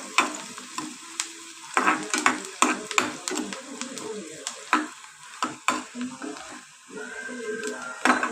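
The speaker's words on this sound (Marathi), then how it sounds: "कांदा हलवून घ्यायचा मस्त असा।" Chopped onion stirred and fried in a pan for a green peas curry, with steady sizzling and repeated scraping strokes of a spatula, close and alone with no talk.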